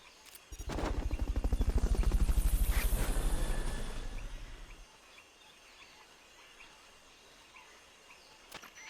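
A helicopter in the game Metal Gear Solid Peace Walker swells in with a loud rhythmic rotor chop that peaks and fades after a few seconds, leaving quiet ambience.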